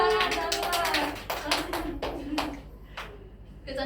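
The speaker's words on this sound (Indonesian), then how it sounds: "teman-teman kasih tepuk tangan" Classmates clapping in a classroom, a short burst of many hands clapping together that tapers off into a few scattered claps, with a voice briefly audible at the start.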